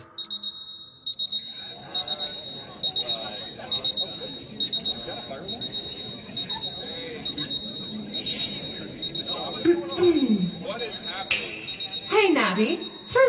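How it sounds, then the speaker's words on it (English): An alarm in an anime goes off with a steady, insistent high electronic beeping that pulses throughout, while characters talk over it. "I've turned off the alarm."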